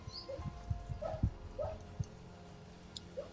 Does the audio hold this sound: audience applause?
no